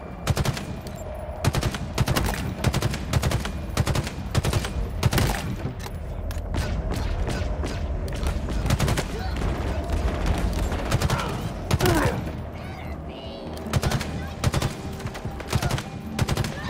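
Sustained rapid automatic gunfire from a turret in the video game Halo Infinite, dense overlapping bursts continuing loud and steady throughout with battle noise around it.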